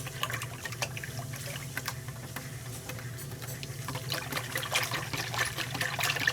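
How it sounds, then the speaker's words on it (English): A whisk beats a bread pudding mixture of eggs, milk, sugar and cinnamon in a bowl, making a steady wet sloshing and swirling that runs continuously, close and moderately loud. "let me whisk it up one more"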